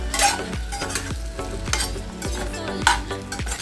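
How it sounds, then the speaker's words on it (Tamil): Cut raw mango pieces sautéing in hot oil for mango pachadi, a close sizzle and frying hiss broken by regular scraping strokes of a stirring spoon against the pan, roughly every half second, with no talk. "எண்ணெயிலே இந்த மாங்காய் அப்படியே கொஞ்சம் வதக்கிக்கலாம்."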